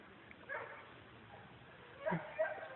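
A small dog gives a few faint yips and whimpers, distant and quiet, with brief gaps between them.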